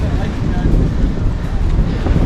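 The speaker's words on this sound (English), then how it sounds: "Windy up here." Strong wind buffets the microphone near a mountain summit on the Old Rag Mountain hike in Virginia, a loud, continuous low roar that holds steady throughout.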